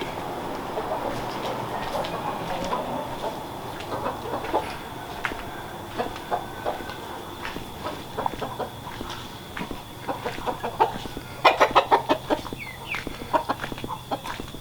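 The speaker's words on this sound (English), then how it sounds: "it's bloody chooks too." Chickens cluck and chatter close by around a farmyard, a busy run of short clucks and scratchy calls with occasional louder clusters, over a low steady background hum.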